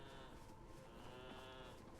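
Sheep bleating in Elden Ring: Shadow of the Erdtree, a sustained, wavering animal cry held for two seconds, layered over dense game ambience and music, with no talking.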